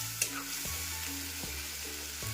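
Ground spice paste sizzles steadily in a hot pan over medium heat while cooking for a soybean and egg curry, a continuous close frying hiss broken by a few soft stirring knocks.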